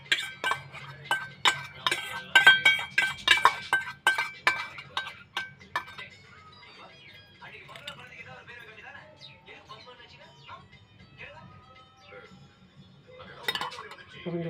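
A metal vessel and cotton cloth handled while preparing homemade flaxseed and rice face cream: a quick run of bright metallic clinks and clatters, then softer scattered taps and rustles, with a voice speaking at times.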